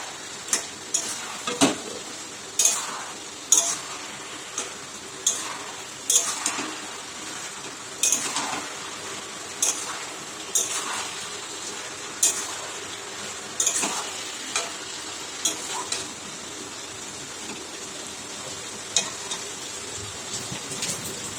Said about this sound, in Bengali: তারপর এখানে আমরা এটাকে মাছের মাথাটার সাথে মিক্স করে দেবো ভালো করে